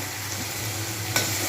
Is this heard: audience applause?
no